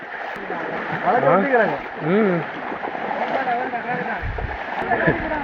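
Floodwater rushing and splashing through a flooded residential area, a continuous watery wash with bursts of splatter beneath someone speaking Tamil close by.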